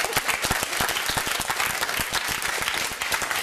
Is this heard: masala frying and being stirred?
no